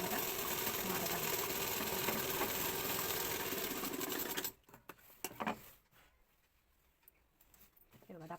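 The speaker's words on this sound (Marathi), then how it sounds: "ह्याच बाजूला जिकडे आपल्याला शिलाई मारायची आहे त्याच बाजूला शिलाई मार्जिन घेऊन दापटीप पूर्ण गळ्याला मारून घेणे." Sewing machine runs steadily at speed, stitching darts around a garment neckline, a close, even mechanical whir that stops abruptly halfway, leaving faint handling clicks.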